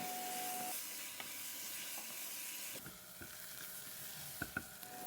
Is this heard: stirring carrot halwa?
yes